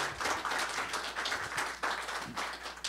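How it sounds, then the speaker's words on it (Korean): A conference audience at a construction industry breakfast forum claps together in a steady, dense wash of applause that fills the moment without pause, with no voices over it. "큰 박수 부탁드리겠습니다"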